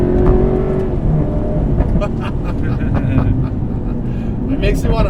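Alfa Romeo 8C Competizione engine pulling hard at full throttle through two gears, a loud deep sustained roar heard from inside the car, with a person talking over it.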